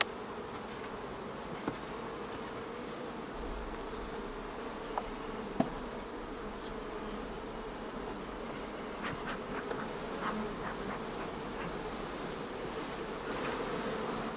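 Honey bees hum in a dense, steady drone over an opened beehive during a comb change, a soft continuous buzz with occasional faint clicks and handling knocks.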